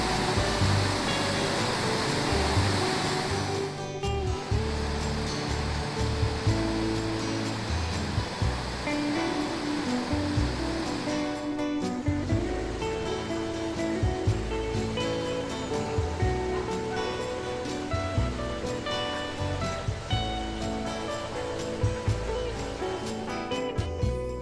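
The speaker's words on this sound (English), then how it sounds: "Thousands of gallons of water surge into the lock every minute." Water surges and rushes into a lock on the Kennet and Avon Canal, making a loud continuous roar with churning turbulence. Sharper splashing sounds break through now and then.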